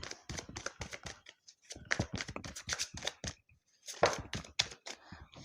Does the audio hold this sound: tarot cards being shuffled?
yes